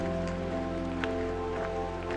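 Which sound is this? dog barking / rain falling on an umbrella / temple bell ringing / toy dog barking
rain falling on an umbrella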